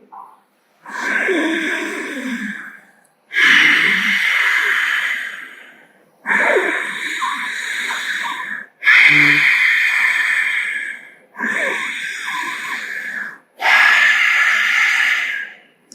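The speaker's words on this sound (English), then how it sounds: "exhale completely, empty your lungs. Then from here on, as you inhale" Slow, deep pranayama yoga breaths, about six long airy inhales and exhales in a steady rhythm with short pauses between, close and clear with no talking.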